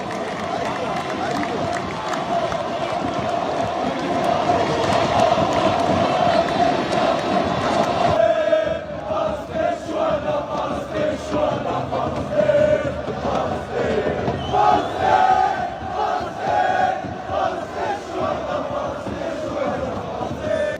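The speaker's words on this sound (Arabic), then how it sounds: "دي كانت هتافات الجماهير الجزائر بالأمس" Algerian football fans chant and roar together as a large outdoor crowd near the Giza pyramids, a loud, dense wall of massed voices that swells and dips in waves across the whole stretch.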